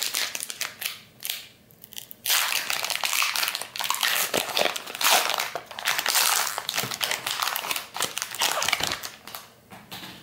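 Crinkling plastic wrapper of a Topps Total NFL 2006 football card pack being torn and opened up close, loud crackling and crumpling bursts running almost continuously with brief pauses, no talking.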